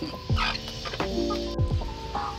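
Native chickens, a new rooster and two hens, give a few short clucks and calls close by over a steady outdoor background, with no talking.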